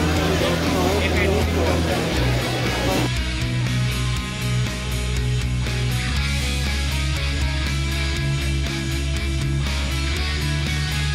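Busy railway station in Bhairab, Bangladesh, with a continuous loud wash of crowd babble and chatter mixed with nearby road traffic and engine rumble, people talking throughout.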